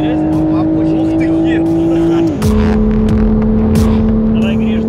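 Toyota engine roaring steadily as the car races off-road through mud, a loud sustained drone that drops in pitch midway, with people talking over it.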